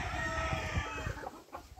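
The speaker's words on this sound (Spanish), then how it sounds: "Es un gallo de todo mi gusto, de los amarillos." A yellow rooster of a pedigreed gamefowl line, weighing four pounds, gives a loud, close crow lasting just over a second. A brief rustle follows it.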